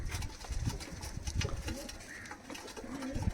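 Teddy pigeons in a loft give close, repeated throaty coos in an uneven rhythm, with faint background murmur between the calls.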